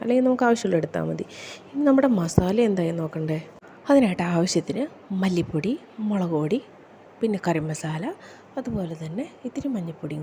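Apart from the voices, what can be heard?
None of the usual background noises is heard.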